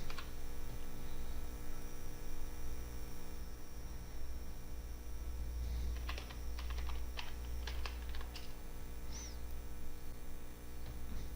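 Keystrokes on a computer keyboard while a file name is typed during a PSeInt programming lesson, a cluster of quick close clicks in the second half over a steady low hum, with no talking.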